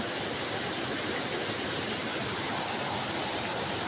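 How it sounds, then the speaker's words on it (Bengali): A sudden rain shower pours down steadily, a dense unbroken wash of noise with no voices or breaks throughout. "হঠাৎ এসে গেছে বৃষ্টি।"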